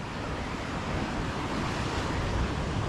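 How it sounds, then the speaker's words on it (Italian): Loud, continuous roar of ocean surf crashing nearby at Punta del Hidalgo, mixed with heavy wind buffeting the microphone. "La potenza dell'oceano."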